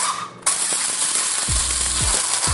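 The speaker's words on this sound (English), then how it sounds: "So I'm going to take my peppercorns. I'm using a grinder here." A small electric grinder pulses peppercorns in short bursts, its motor kicking on abruptly with a whirring, rattling grind of hard peppercorns, loud and close.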